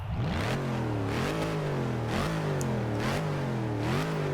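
A Dodge Charger Hellcat engine in the video game Forza 6 revs up and down in repeated surges, its pitch climbing and dropping several times, loud and close with no talking.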